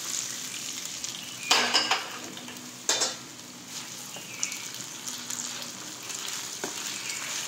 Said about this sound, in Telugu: ఈ తాలింపుని ఇప్పుడు ఈ పచ్చట్లో కలిపేద్దాం